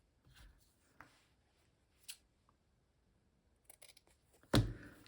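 Scissors cutting fabric for a collage, a few separate crisp snips spaced out, the last one louder and closer, in a quiet room with no talk.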